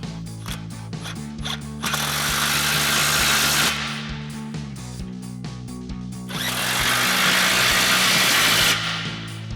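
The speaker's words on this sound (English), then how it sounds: "Next, we'll tighten down our 2 muffler outlet clamps." A ratchet socket wrench with a 15mm socket tightens the two muffler outlet clamps on a Ford F-150 dual exhaust install, rapid clicking ratchet strokes close by, in two sustained bursts with brief pauses between.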